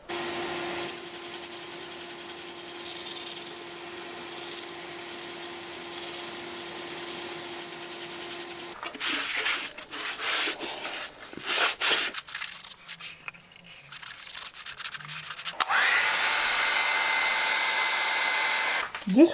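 Wooden bowl spinning on a lathe while 60 grit sandpaper is held against it, a steady rubbing hiss with a motor whine, then uneven scraping strokes and short pauses before the continuous sanding returns.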